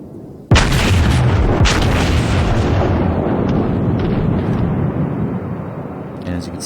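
A South Carolina battleship's secondary guns fire in World of Warships, a sudden heavy boom followed by a sustained loud, rumbling barrage of gunfire, with someone talking over it.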